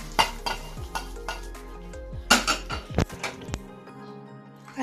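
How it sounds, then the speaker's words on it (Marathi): A hot tempering sizzles as it is poured into a homemade salad: a sharp burst of frying hiss, then scattered clinks of a spoon against a bowl and stirring sounds, close and moderately quiet. "फोडणी ह्याच्यात टाकूया."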